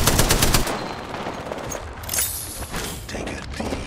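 Rapid automatic gunfire in a video game as the character Caustic, loud and dense at first, then continuing in shorter bursts with mechanical clatter.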